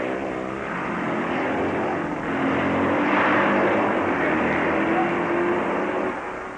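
Racing motorcycles, including a Velocette, roar past during the 1958 Catalina Grand Prix, a loud continuous engine drone that swells midway and holds steady before easing off.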